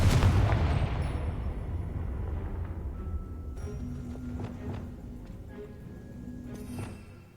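A Confringo spell explosion in Hogwarts Legacy, one loud booming blast at the start that rumbles away and decays over several seconds, with fainter clatter and pops following.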